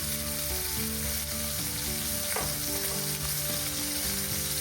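Steaks sear in a hot pan with a loud, even sizzle and crackle that runs unbroken throughout, close up, with a steady tonal hum beneath it.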